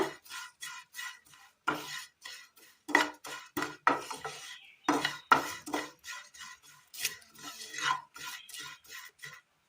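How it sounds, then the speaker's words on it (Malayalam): Quiet, rhythmic scraping of a spatula stirring cumin seeds as they dry-roast in a hot pan, repeated strokes close by with no talking. "ചട്ടിയുടെ ചൂടിന് വേണം ജീരകം വറുത്തെടുക്കുക"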